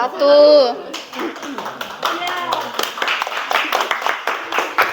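Students in a classroom clap for a group of classmates, a ragged burst of hands following a short stretch of a voice, with children chattering over the uneven clapping.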